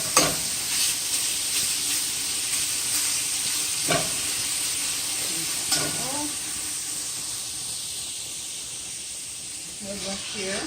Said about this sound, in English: The bacon is going to sizzle.